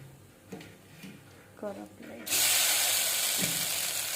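Cumin seeds and turmeric dropped into hot oil for tempering, giving a sudden loud, steady sizzle that begins partway through and carries on to the end, after a few quiet knocks of a spoon or pan beforehand.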